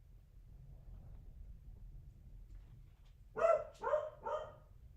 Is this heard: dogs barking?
yes